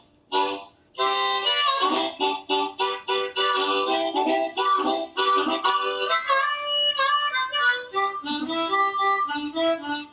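A blues piece plays loud and close, with dense melodic phrases and sustained harmonic notes for about ten seconds after a brief quiet start, and no talking over it.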